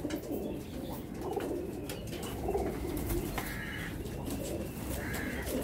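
Pigeons coo in a low, throaty, repeated rhythm, close by amid a busy flock in a loft or aviary, with chirps and faint flutters mixed in and no talk.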